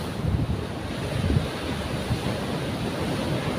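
Strong sea waves surge and crash on a shore, a loud continuous roar with heavy wind buffeting the microphone and no voices.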